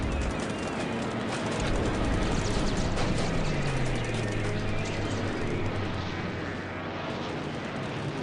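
B-25 bomber engines roar loud and continuous in a World War II air combat video game, a dense, steady drone with a faint tone sliding down partway through.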